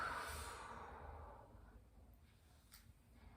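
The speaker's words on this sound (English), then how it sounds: "Take a nice deep breath here." A slow, deep breath during a yoga hip stretch: a soft, close exhale that fades out over about a second and a half, followed by quiet.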